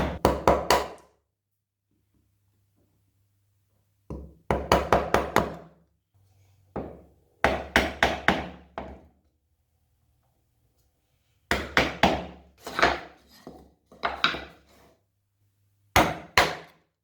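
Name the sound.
chisel cleaning out wooden dovetail cuts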